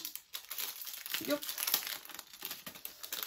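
Plastic packaging of a pennant-making craft kit crinkles and rustles close up, a steady crackly handling sound over about three seconds with brief louder crunches.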